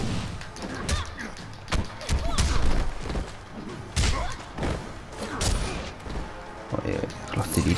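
Gunshots and heavy impact thuds from a Mortal Kombat X fight with Sub-Zero, a series of loud irregular bangs and crunches with someone talking excitedly in Spanish over the game action.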